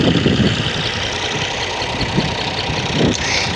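A tractor engine runs during a village tractor tug of war in Punjab, a steady, rumbling idle with faint knocking pulses, close and moderately loud, with no voices.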